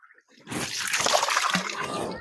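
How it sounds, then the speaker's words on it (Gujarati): Water gushes from a household tap after the pump motor is switched off, starting abruptly after a brief quiet moment and then running in a steady, moderately close splashing stream. "અહીં જો હાથે કેટલું પાણી નીકળે"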